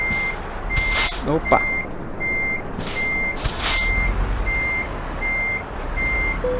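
A truck's reversing alarm beeps steadily at an even pace while parking in Euro Truck Simulator 2, with an air brake hiss and a brief spoken exclamation over it.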